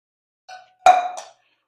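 Mushrooms and onions in bacon fat are stirred in a pot, giving a light scrape followed by a sharper metallic clink and a short ringing tail, close and otherwise quiet.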